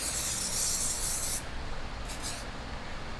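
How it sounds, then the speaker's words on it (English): A can of CRC spray adhesive hisses in a long steady burst, then two short quick puffs follow, close and fairly quiet, with no talking. "I made my own can of CRC spray adhesive."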